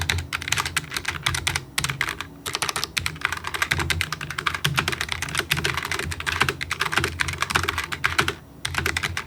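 Typing on a Logitech G915 TKL low-profile keyboard with GL Tactile switches, a steady, fairly quiet stream of soft tactile keystrokes with brief pauses, close up and alone with no talking.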